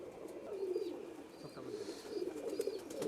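Pigeons, Pakistani and Rajshahi Giribaz types, cooing softly in a loft collection, low murmuring coos recurring through the clip at moderate distance, with faint chirps above.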